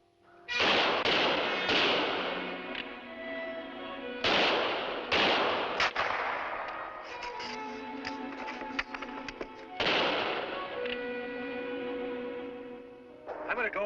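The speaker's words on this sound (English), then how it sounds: "Keep firing." Rifle gunfire in a frontier TV drama: several sharp, loud shots ring out in irregular bursts, each followed by a decaying echo, with a denser volley near the end.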